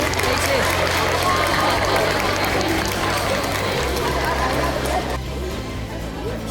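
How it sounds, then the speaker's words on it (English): A school awards ceremony crowd gives a class a round of applause, dense and loud clapping mixed with crowd noise and a voice speaking over it, thinning slightly toward the end. "Big round of applause for 1C4"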